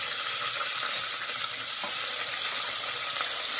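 Onion and green chillies fry in hot oil with garam masala, shahjeera and bay leaf for khichdi, giving a steady, close, even sizzle throughout with no voices.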